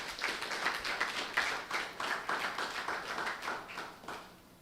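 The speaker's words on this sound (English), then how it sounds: "So another round of applause for them" Scattered hands clap in a fairly quiet, uneven rhythm from a modest audience at a creative storytelling event, greeting people from a film. The clapping is steady for several seconds without talk.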